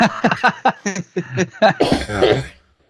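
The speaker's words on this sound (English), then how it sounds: "I'm just coughing and can't talk" A person coughs repeatedly in a close, dry burst of short hacks, then a longer rasping cough with throat clearing before it stops into silence.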